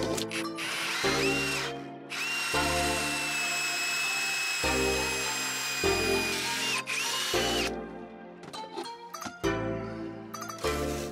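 A power drill drilling a hole whines close by in several separate bursts, its motor revving up and spinning down between pauses, with no talking.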